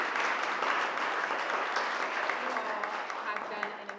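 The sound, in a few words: audience applause for founders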